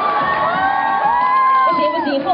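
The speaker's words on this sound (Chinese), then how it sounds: "给我听一下你的欢呼声" A fan crowd at a celebrity appearance in Kuching cheers and whoops loudly on cue, many voices and high-pitched shouts blending into a continuous roar for a couple of seconds.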